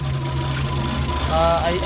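An overheating car engine idles roughly and shakes, giving a steady, close, low mechanical hum with a slight rise in level toward the end, while a voice is heard over it.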